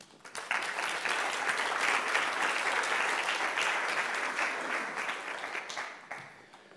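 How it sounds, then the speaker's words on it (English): An audience at a service desk industry conference breaks into applause, a steady burst of clapping that starts quickly, holds for several seconds, then thins out and fades near the end. "So it'd be great for maybe a quick round of applause"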